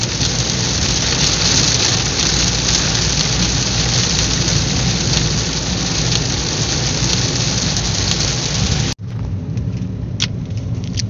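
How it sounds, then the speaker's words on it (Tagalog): Heavy rain pours onto a road in Nabua, a dense, loud, continuous roar with a brief dropout near the end before the downpour resumes at a slightly lower level. "Maulan po talaga dito sa Nabua."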